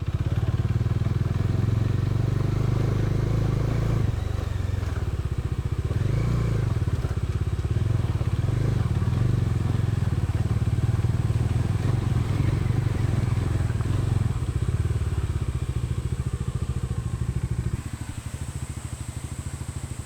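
A motorcycle carries riders along a monsoon road in the hills near Narsipatnam toward Rampa Waterfalls, its engine droning loudly and steadily throughout with some rattle, easing off near the end.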